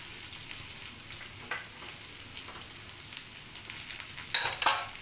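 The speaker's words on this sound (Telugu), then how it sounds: "అల్లమిరపకాయ పేస్ట్ కొంచెం ఎర్ర కావాలి పచ్చివాసన పోయే వరకు వేయించుకొని" Ginger and green chili paste fries in hot oil, crackling and sizzling steadily at close range, with a few sharper pops and spatters near the end.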